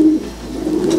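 Domestic pigeons coo in a loft, a soft low throaty call rising at the start and again near the end, close by with no talk.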